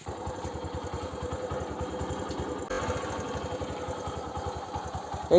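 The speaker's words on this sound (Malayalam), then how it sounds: "ജസ്റ്റ് ഒന്ന് സ്റ്റാർട്ട് കാണിച്ചു വണ്ടി." A motorcycle engine idles steadily after a repair to its fuel pipe from the tank, a close, even rapid thumping with no voices, ending in a brief louder knock.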